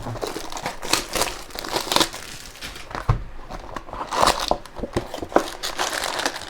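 Plastic wrapper on a box of 2023 Bowman Draft Jumbo baseball cards crinkles and crackles continuously close up as it is cut open, with sharper crunches scattered throughout and no talking.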